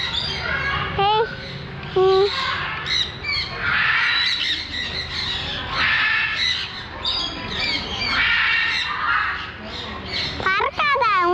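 Parrots squawking loudly and continuously at close range at a bird park in Mettupalayam, harsh repeated calls and chirps layered together, with people talking to the birds over them.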